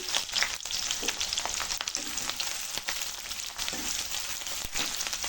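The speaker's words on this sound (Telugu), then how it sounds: "ఆయిల్ వేసిన తర్వాత పచ్చిమిర్చి అలాగే ఉల్లిపాయలు," Green chilies and onions fry in hot oil for egg fried rice, a steady close crackling sizzle with small pops throughout.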